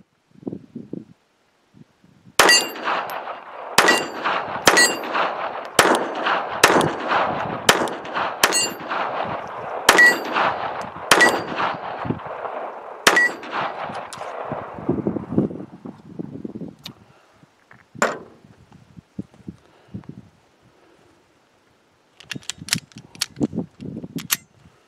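Sharp .22LR pistol shots from a Ruger LCP II ring out in a rapid string outdoors, each crack followed by a metallic clang off steel targets, then a pause and a few more scattered shots toward the end.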